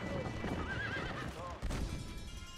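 A horse whinnies loudly several times in the Red Dead Redemption video game, with clip-clop hoofbeats and a voice talking under a dense, busy game soundscape.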